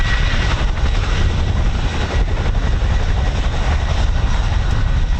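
A Chinook twin-rotor helicopter flies over the RAF Holbeach air weapons range, a loud, continuous rumbling roar of rotors and engines filling the whole stretch without pause.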